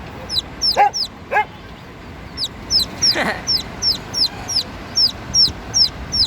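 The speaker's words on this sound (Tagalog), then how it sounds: "Tatlong klaseng mga sisiw na iba't ibang klase ang laki." White leghorn chicks and quail chicks peep constantly in a rapid, evenly spaced run of shrill chirps, close and loud, with a brief lower cheep mixed in and no talking.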